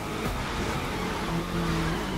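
A car in The Crew 2 racing game crashes into a house wall, heard as a dense, loud engine roar with tyre scrub and skidding and no clear separate impact.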